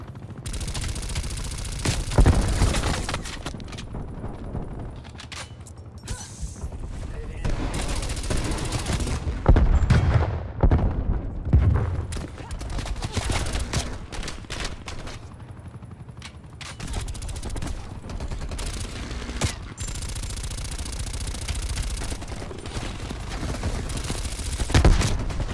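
Dense gunfire from a Call of Duty: Black Ops Cold War match on the Nuketown 84 map, with repeated shotgun blasts and other weapons firing in overlapping bursts, loud and nearly continuous throughout.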